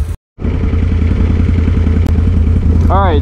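A Can-Am Renegade ATV engine runs loud and steady while riding on back roads, with a brief dropout near the start and a rising whine late in the clip.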